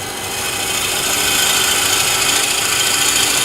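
Freshly sharpened bowl gouge peeling real shavings from a wooden bowl spinning on a lathe, a steady close rasping hiss of the cut that holds at an even level throughout.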